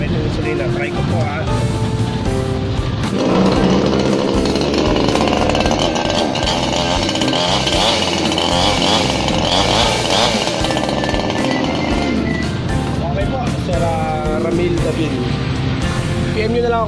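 A model 5900 gasoline chainsaw starts and runs loud and close, its engine rasping and revving up and down steadily while someone talks over it.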